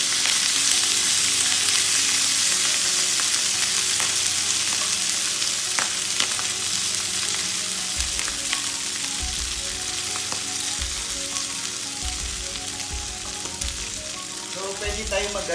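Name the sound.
milkfish (bangus) frying and sizzling in a hot pan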